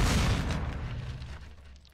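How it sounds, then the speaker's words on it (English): A flashbang grenade explodes in the Call of Duty video game, a loud, deep, close boom whose rumble and hiss decay over about two seconds. "Flash in."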